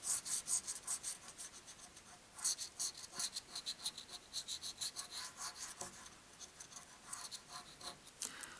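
A coin scratching the coating off an FDJ Paris 2024 Olympics scratch-off lottery ticket, close, faint rasping strokes in quick repeated bursts with short pauses between them, no talk.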